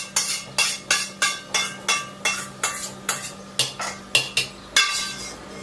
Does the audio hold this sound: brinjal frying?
yes